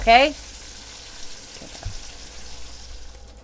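Ground chuck hamburger meat browning in a pan, a soft continuous sizzle after a brief sharp clatter at the start, with a low thump partway through.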